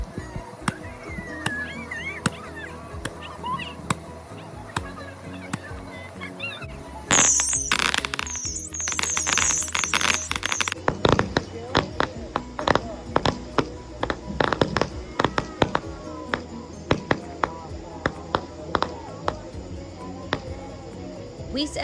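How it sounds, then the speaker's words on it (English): Firecrackers set off outdoors at a July 4th family gathering on a sandbar: a long run of sharp, loud pops and cracks in irregular bursts, with a dense crackling stretch partway through. "Popping firecrackers can be a lot of fun"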